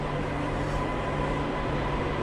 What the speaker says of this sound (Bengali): বাঁকুড়া জংশন ছেড়ে ট্রেন মশাগ্রামের পথে।